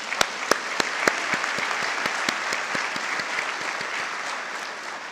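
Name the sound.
applause for graduates at a graduation ceremony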